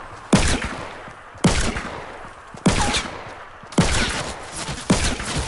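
A gun fires in a video game, five sharp loud shots at roughly one-second intervals, each burst trailing off in a rumbling echo.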